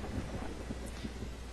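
A movie-style lightning bolt sound effect: a continuous rumbling, crackling roar like thunder, dense and steady for its brief length, with no voices.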